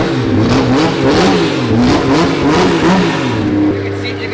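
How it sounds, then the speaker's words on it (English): A 1000-horsepower 2JZ engine revs repeatedly in a car up on a lift, loud and close, with throttle rising and falling in rhythmic surges before it settles to a steady idle; voices talk over it. "you can like feel the torque of the engine just revving it"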